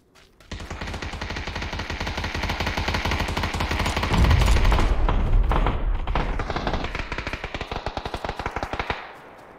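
Video game gunfire, dense rapid automatic bursts that run continuously for several seconds, loud and close, with a heavier thumping impact partway through.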